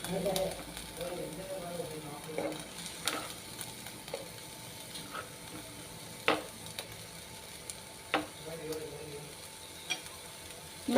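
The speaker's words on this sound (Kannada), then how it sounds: "ಉಳ್ಳಾಗಡ್ಡಿ ಮತ್ತು ಟೊಮೆಟೊ, ಮೆಣಸಿನ್ಕಾಯಿ ಒಂದಿಷ್ಟು ಫ್ರೈ ಮಾಡ್ಕೊತೀನಿ ರೀ ಇದ್ರಾಗೆ." Onions, tomatoes and chillies frying in a pan, a low steady sizzle with occasional scrapes and taps of a spatula against the pan, fairly quiet and without talk.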